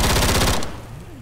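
Rapid automatic gunfire in Left 4 Dead 2, a loud close burst of repeated shots that stops abruptly after about half a second, leaving quieter game background.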